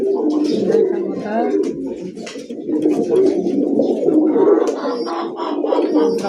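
A pair of Bombay pigeons coo in repeated throaty, rolling calls close by, with other birds chirping faintly behind them and a person speaking over the cooing.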